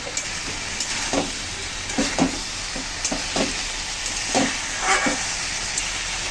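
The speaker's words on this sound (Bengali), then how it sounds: "মশলা দিয়ে চিংড়ি মাছ, আলু, সয়াবিন সুন্দর করে কষিয়ে নেব।" Shrimp, potato and soybean fry with spices in a hot pan, a constant sizzle punctuated by repeated bursts of stirring and scraping at irregular intervals. The bursts are close and fairly loud, and there is no speech.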